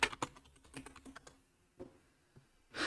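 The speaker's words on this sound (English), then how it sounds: "So you type in your password." Fingers tap a password on a computer keyboard in a quick run of light, uneven clicks, then a pause and a couple of final keystrokes, close and quiet.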